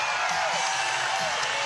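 A basketball arena crowd at a FIBA Oceania Championship game between New Zealand and Australia gives off a dense, continuous roar of cheering and shouts. It is steady and fairly loud, with no distinct voice standing out.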